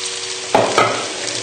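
A spatula stirring chilli pesto through sausages in a hot pan, two quick scraping strokes over a steady close sizzle, brief and without talk.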